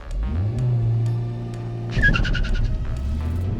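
A Honda Civic Type R launches hard from a standstill, its engine note climbing steadily and loudly before a sharp, high squeal and a roaring surge of acceleration near the end.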